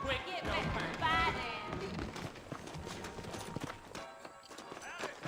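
Horse hooves clip-clop at a horse stable in the Red Dead Redemption western video game, a rhythmic clatter running beneath a character's spoken dialogue.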